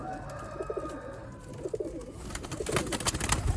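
Sialkoti pigeons, a breed kept in pairs, coo in soft repeated throaty bursts nearby, with a rustle of wings or movement building toward the end.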